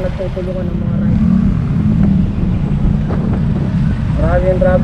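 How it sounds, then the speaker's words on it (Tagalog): Heavy road traffic in Kawayan, Bulacan, heard from among riders: a continuous rumble of engines and wind buffeting, fairly loud and unbroken, with a voice coming through now and then. "Marami yung traffic dito guys."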